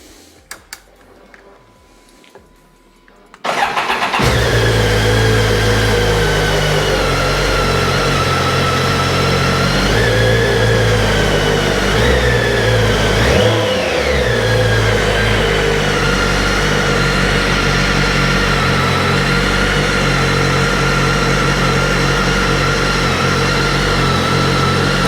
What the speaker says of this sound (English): Okay, let's start this up, listen to it run.